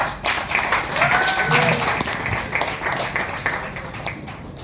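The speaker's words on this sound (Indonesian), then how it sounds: "Itu kita berikan tepuk tangan untuk Fahira Almira dan juga Elina York." Audience applause for two co-hosts at a network launch event, a burst of clapping that swells and fades while a presenter's voice carries over it.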